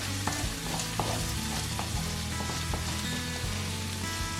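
Finely chopped garlic and onion fry in a pan, giving a steady, close crackling sizzle with scattered small pops throughout.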